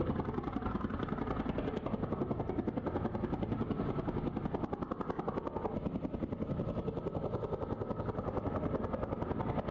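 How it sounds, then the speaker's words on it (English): A plane touches down on a helicopter pad, its engine a loud, steady, rapid throbbing drone with dense rhythmic chopping that holds unbroken throughout. "A plane landed on a helicopter pad"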